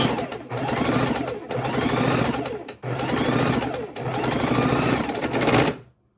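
A sewing machine stitches a quilt seam in steady fast bursts, loud and close, pausing briefly a few times before stopping.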